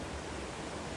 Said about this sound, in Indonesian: Nah benar itu dia. Ya, air terjun.